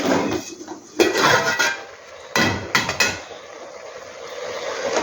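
A ladle stirs green gram leaves cooking in a pot for a village-style thoran, giving a few loud metallic clanks and scrapes against the pot, close by, with quieter rustling in between and no talking.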